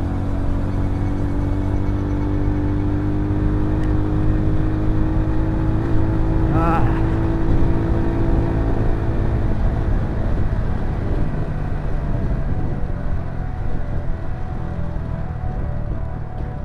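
A Rusi Swish Mono 125 motorcycle engine drones steadily while riding on a 15/36 sprocket combination, holding a sustained pitch with wind rush and a brief passing sound midway.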